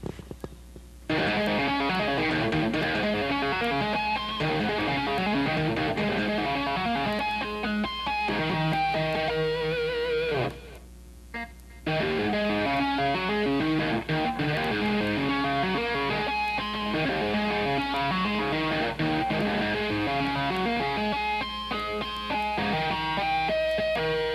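Dense, ringing electric guitar passage of tapped harmonics, bell-like notes cascading rapidly, loud and continuous, with a brief drop-out near the middle before resuming.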